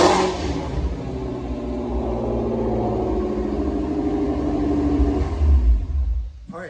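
A supercharged Ford Mustang GT350 with a Whipple supercharger arrives, its engine rumbling and revving steadily before swelling louder near the end, heard alone without talk.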